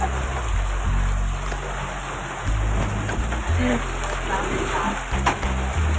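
Heavy monsoon rain pours down during the season's first rain in Maharashtra, a constant close hiss and patter with low rumbling beneath and faint voices underneath.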